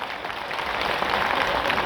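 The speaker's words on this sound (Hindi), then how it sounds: "जबरदस्त तालियां हो जाए।" An audience at a Modicare success-story event in Vadodara applauds with steady, dense clapping that holds at an even level and swells slightly toward the end.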